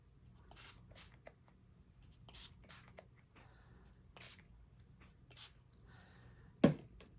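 Several short, faint hissing sprays spaced apart in a quiet room, followed by a sharper tap near the end.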